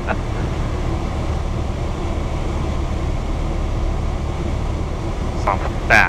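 A light aircraft engine runs steadily during a soft-field landing, a close, continuous droning roar that holds level throughout, with a couple of brief higher tones near the end.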